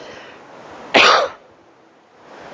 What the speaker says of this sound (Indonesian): Ada batuk begini nggak bisa minta air hangat lagi ya.